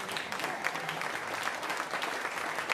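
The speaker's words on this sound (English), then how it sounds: "applaudir." Audience applause at a jazz concert, a steady dense clapping from a sizable crowd that fills the room, close and fairly loud, without talk.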